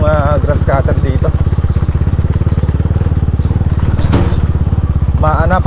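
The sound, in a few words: grass cutter engine running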